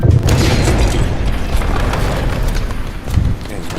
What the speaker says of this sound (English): So I just threw an explosive over there and then just shot him off.